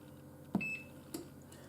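A Cosori air fryer gives a single short, high electronic beep while its timer is set, followed a moment later by a faint click in a quiet kitchen.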